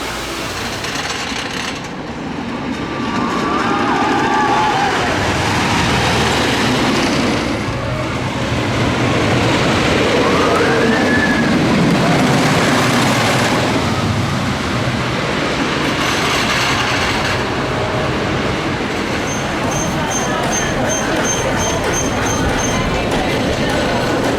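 Wildcat, the original Great Coasters International wooden roller coaster at Hersheypark, heard from a seat during the ride: a loud, continuous rumbling clatter of the train on its track for the whole run, with riders' voices mixed in.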